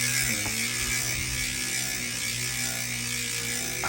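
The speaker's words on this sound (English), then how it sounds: "I think I prefer the sound of the ratchet." A Nukeproof Horizon V2 Pro mountain bike wheel spins freely, its freehub ratchet giving a continuous, close buzzing whine that holds steady throughout.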